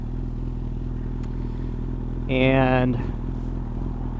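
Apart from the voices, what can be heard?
1997 Suzuki Bandit 1200 motorcycle riding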